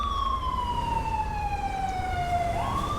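Wailing ambulance siren in a GTA 5 British police mod, a single loud, smoothly falling tone that swoops back up near the end over low engine rumble.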